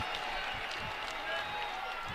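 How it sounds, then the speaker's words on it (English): Crowd at a college wrestling dual between Oklahoma State and Minnesota, a steady broad roar of cheering with scattered claps, continuous and fairly distant throughout. "Crowd really getting behind him."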